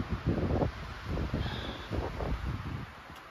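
Gusty wind buffeting the microphone on the back ridges of Mt Barwell in South Kananaskis, a Rockies day-hike trail, coming in repeated rushing pulses, fairly soft and steady with no talking.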